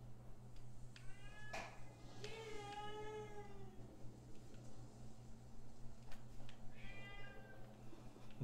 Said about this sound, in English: My cat's chirping.